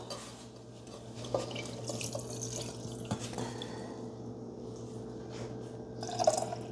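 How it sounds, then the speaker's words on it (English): Melted wax pours into a container, a faint liquid trickle with small drips and splashes over a low household hum, a couple of sharper clicks, no voices. "We will get the leftover wax that just poured everywhere later"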